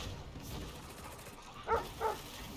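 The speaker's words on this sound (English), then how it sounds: "I heard the barking." Two short dog barks at a distance, a second apart, over a faint steady background hum with no talking.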